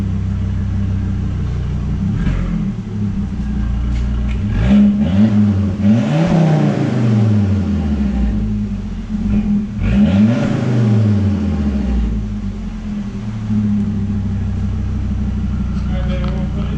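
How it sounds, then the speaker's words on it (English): A Volvo S60 R AWD engine revs up twice through a throaty exhaust, each rise and fall loud and close, with a steady idle rumble between and voices talking underneath. "See what that exhaust sounds like."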